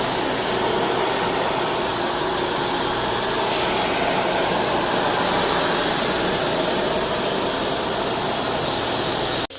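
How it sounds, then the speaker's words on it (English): A pellet mill motor running empty with no material fed in, giving a loud, steady, unbroken mechanical whir with a broad hiss that holds constant and cuts off abruptly at the very end. "you can see that the motor is not making any abnormal noises or anything like that"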